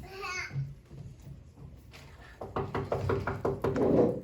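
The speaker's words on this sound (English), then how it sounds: "I hear knocking at the south entry." Knocking on a door as a stage effect in an elementary school production of Macbeth: a run of dull, evenly spaced knocks that builds louder toward the end over faint room murmur.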